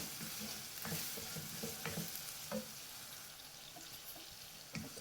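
Fish pickle masala with ginger and garlic stir-fried in a pan, a faint steady sizzle broken by soft scraping and stirring clatters of a spatula, close and quiet.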